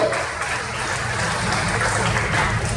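A church congregation at a worship service gives sustained applause, dense and steady clapping that fills the room for a few seconds without a break.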